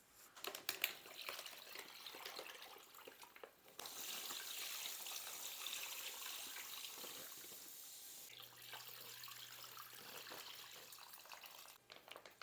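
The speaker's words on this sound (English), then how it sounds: "just keep pouring in water until it covers the bird all the way to the top" Water runs steadily from a tap into a bag holding a whole turkey in brine, a continuous, fairly quiet splashing stream lasting several seconds with no voices.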